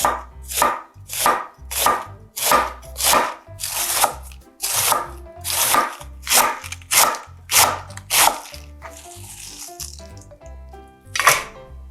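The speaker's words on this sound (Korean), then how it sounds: "양배추는 채를 썰을 거예요." A knife shreds cabbage on a cutting board in brisk, evenly spaced bursts of chopping strokes, loud and close. The strokes pause briefly near the end before a final cut, and no one speaks.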